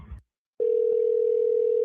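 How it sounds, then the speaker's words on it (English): A steady telephone dial tone fills the line after a call is hung up to dial back. It starts abruptly after a short pause and holds loud and unbroken, with a brief bit of noise at the very start. "I'm going to hang up and call back."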